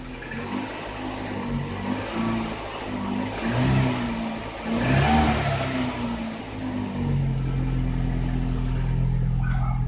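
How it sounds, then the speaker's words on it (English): Close-up car engine revved several times in short rising bursts, then held at a higher steady drone, loud and with no speech. "Let's rev it up a little."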